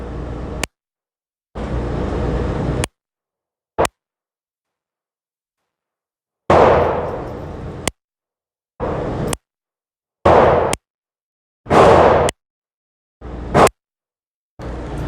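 Glock 44 .22LR pistol fired on a range, a series of sharp separate shots with gaps of silence between them, some spaced and some quick, loud and close with no talking.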